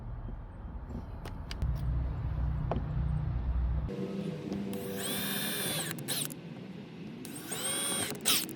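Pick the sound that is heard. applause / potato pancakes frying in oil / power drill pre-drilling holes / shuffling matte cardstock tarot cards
power drill pre-drilling holes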